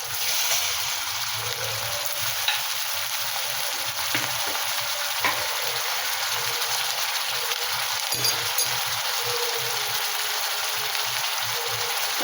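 Ginger and garlic fry in hot oil, giving a continuous, close, even sizzle with occasional faint stirring clicks for the whole stretch, with no talking.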